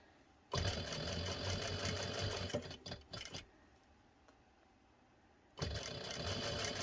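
A sewing machine stitches ribbon onto cat collar webbing in two loud, steady bursts of motor whir, stopping for a couple of seconds between them.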